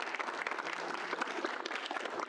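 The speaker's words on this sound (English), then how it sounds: "Let's get a round of applause for you." A steady round of applause from a crowd at a student senate meeting, even and continuous clapping throughout, moderately loud with no talking.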